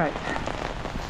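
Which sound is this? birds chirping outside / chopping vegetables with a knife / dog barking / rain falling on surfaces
rain falling on surfaces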